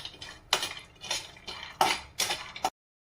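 Pistachios stirred in a little ghee in a pan, a spatula scraping and clinking against metal in about six close, rhythmic strokes before the sound cuts off.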